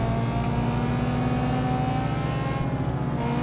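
Car engines droning and revving in the racing game Need for Speed Most Wanted, a steady buzzy hum with a slight pitch rise near the end, continuous and fairly loud with no talk.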